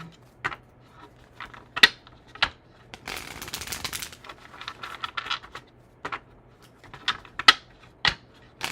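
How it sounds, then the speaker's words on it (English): A deck of tarot cards being shuffled: scattered crisp snaps and flicks, then a brief riffling burst in the middle, followed by more sparse card taps, close and quiet. "Last shuffle."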